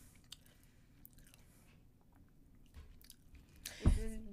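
Real or imitation bacon being chewed and tasted close up, soft low mouth noises building to a louder crunchy bite near the end, with no talking.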